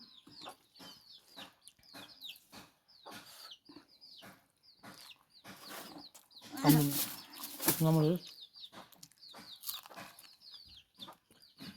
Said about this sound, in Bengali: মুরগি খুব জ্বালাচ্ছে দেখেন